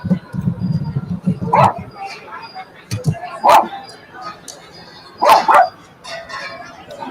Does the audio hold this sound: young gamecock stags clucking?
no